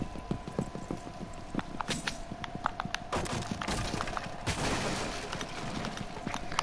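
Rapid hip-fire gunshots from a video game ring out as a dense run of sharp cracks, some in quick bursts, mixed with busy game noise and no clear speech.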